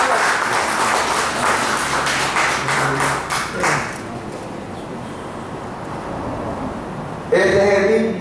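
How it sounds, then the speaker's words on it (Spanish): Congregation applauding in a church service, dense clapping with a few louder claps over the first four seconds, then fading into a softer crowd murmur before a sudden swell of noise near the end. "¿Cuánto le dan un aplauso al Señor?"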